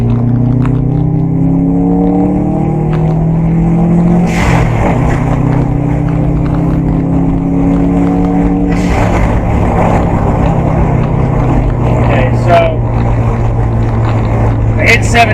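A Subaru WRX turbo engine fitted with a blow-off valve accelerates hard in third gear, heard from inside the car as a loud, rising droning tone that climbs several times, with occasional sharp bursts throughout.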